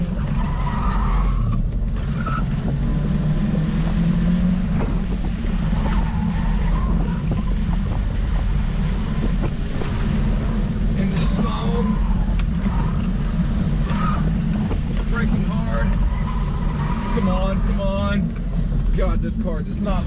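A Volkswagen Jetta driven hard around an autocross course, engine revving loudly and continuously with repeated tire squeal and skidding through corners, the driver talking over the noise.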